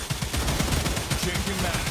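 Rapid automatic gunfire in StarRupture, a dense rattling stream of shots lasting about two seconds, loud and steady, with a voice speaking through it.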